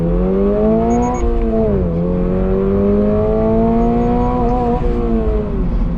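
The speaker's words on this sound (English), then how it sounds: "Oh, I hit the rev limiter right in second gear there." A 2024 Toyota GR86 sports car in track mode pulls hard from a standing start, its engine note climbing steadily and loudly toward the rev limiter, with a brief dip around a gear change.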